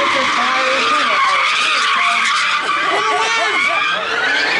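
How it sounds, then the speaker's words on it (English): Cars at a Mecum car auction do a burnout smoke show, tires skidding and squealing in a loud, sustained screech with engines roaring, while an announcer and crowd voices carry over the top. "We are going to do a smoke show with all these cars from"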